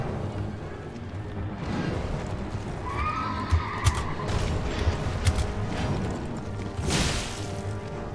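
A Night Cavalry horse in the video game Elden Ring neighs loudly in a drawn-out whinny, mixed with thudding hoof clops and impact crashes during a combat encounter.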